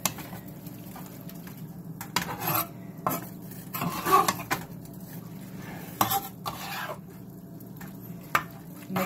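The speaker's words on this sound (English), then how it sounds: "Mixing that up really nicely" A stir fry of meat and vegetables with soy sauce, oyster sauce and sambal chili paste is tossed in a pan. Spatula scrapes and clatters come in irregular bursts over a soft sizzle.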